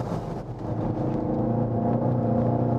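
Volkswagen Golf GTI engine set to a sport-focused individual mode, droning steadily as it downshifts to third gear entering a corner, a continuous close-up engine hum that builds slightly in level with no talking.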